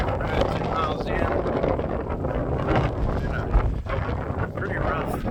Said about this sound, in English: A pretty rough north wind the entire time.